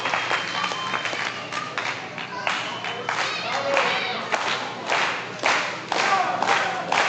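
A live crowd at a New Texas Pro Wrestling event roars and applauds, with bursts of clapping, cheers and thuds swelling and falling across the arena, with no clear talk on top.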